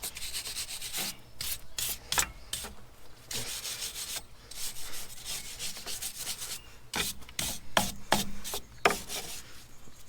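A wire brush scrubs a Renault Trafic front brake hub clean, giving repeated rough scraping strokes in bursts, close and fairly loud, with short pauses between passes.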